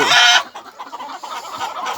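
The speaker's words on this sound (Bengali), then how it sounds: "এই দেখুন আমার দেশি মুরগি চাষ করেছি" Desi chickens clucking on a farm, a dense burst of loud calls at the start, then softer scattered clucks and rustling from the flock.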